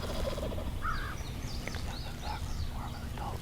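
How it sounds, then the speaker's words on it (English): A wild spring gobbler turkey calls in Wisconsin woods: a few short, rattling gobble bursts at moderate distance over a steady low outdoor rumble, with faint bird-like chatter scattered through. "all of a sudden we hear a gobble off to our right"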